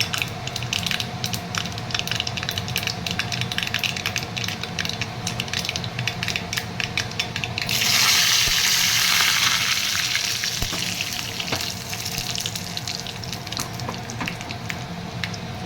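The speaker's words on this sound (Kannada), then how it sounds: "ಇದಕ್ಕೆ ನಾವು ಸ್ವಲ್ಪ ಕರಿಬೇವು ಹಾಕ್ತೀನಿ." Curry leaves dropped into hot oil with popped mustard seeds for Udupi-style pineapple gojju, a close, continuous sizzle and crackle that flares into a louder burst of spitting as the leaves hit the oil.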